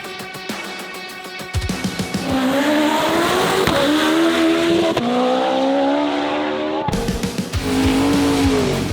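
Drag racing cars at the Haltech World Cup Finals, an import versus domestic event: loud engines scream at high revs with tire squeal, a sharp cut, then another car roaring down the strip close by.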